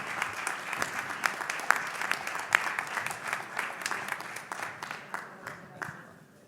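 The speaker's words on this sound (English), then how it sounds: "let's give a round of applause to the Hapoel Eshkol 15-year-old basketball team with Project 24 and Coach Omer Balansky." An audience claps steadily for a 15-year-old youth basketball team, a sustained round of applause that gradually thins and fades out at the end.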